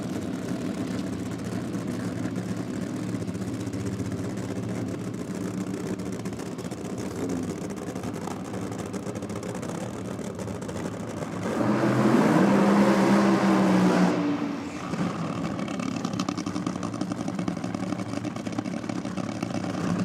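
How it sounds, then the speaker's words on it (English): A nitro dragster's engine roars loud and steady at a drag racing championship, then swells into a harsher, louder burst for a few seconds during the burnout before dropping back to a rumbling idle. "let's enjoy the sound of nitro as we roll into the burnout"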